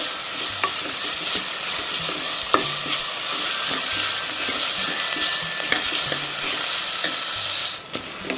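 Onions and curry leaves sautéing in a pan for a green peas kuzhambu, a continuous close sizzle broken by regular spatula scrapes and taps, no voices.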